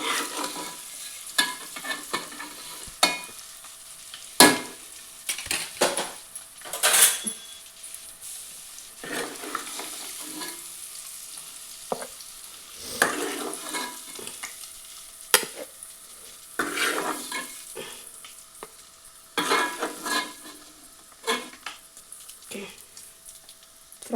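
Eggs frying in oil in a pan for an egg biryani, with steady sizzling broken by repeated scraping stirs and clinks of a utensil against the pan, close up with no talking.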